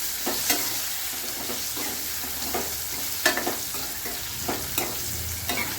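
Stuffed okra sizzles in a pan as it is slowly turned, with a steady crackle of frying and periodic scraping strokes of the stirring spoon against the pan.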